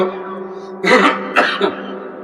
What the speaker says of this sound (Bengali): গলায় আমার একটা কাশি আটকা এটা ছুটে গেল